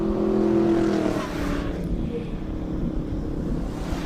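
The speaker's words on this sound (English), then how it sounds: "we got one of the Daytona Fords getting out onto the circuit" A classic Ford Daytona race car pulls onto a hillclimb circuit, its engine note loud and droning at first, then fading as the car moves off, with wind noise through the whole clip.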